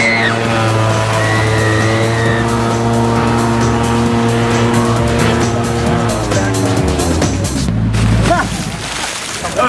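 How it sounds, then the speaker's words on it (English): A PowerSki JetBoard with a 45 horsepower engine takes off on water, a loud steady motor drone with rising pitch that holds for about eight seconds, then drops and fades as the ride settles. "There's a 45 horsepower engine just under my feet with a top speed of 70 kilometers per hour"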